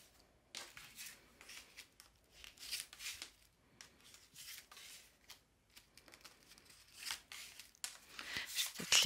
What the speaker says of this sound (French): on va faire un tirage en 13 cartes pour cette semaine